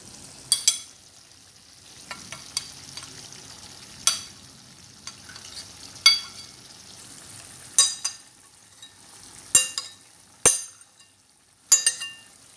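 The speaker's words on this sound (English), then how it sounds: "now I'm adding capsicum and onions" Capsicum and onions stir-fried with pasta in a pan over low flame, a faint background sizzle broken by sharp, recurring clinks and scrapes of a utensil against the pan about every second or two, close with no talking.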